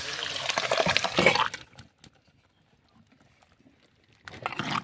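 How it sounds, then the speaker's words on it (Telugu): Boiled lentils are tipped into a pot of curry with a wet, splashing slop lasting over a second, then near silence, then another liquid splash and stir at the end. "ఉడకబెట్టి పక్కన పెట్టుకున్న పప్పు కూర వేసేస్తున్నాను"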